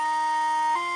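A Nike Adapt BB self-lacing shoe's motor tightens the laces, giving a brief, bright mechanical whine about a second long that shifts pitch near the end. It is heard close and alone.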